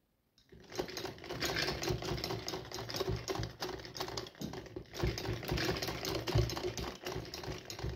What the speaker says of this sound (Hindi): इस तरफ से हमें पट्टी को रखना है और यहाँ नीचे देख सकते हैं, यहाँ नीचे मैंने रखा है पट्टी को और इसके ऊपर यहाँ पे ऐसे स्टिच लगा देंगे।